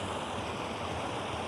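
Heavy torrents of water pour over a canal spillway, a steady, dense broadband roar that stays loud and unbroken throughout with no voices.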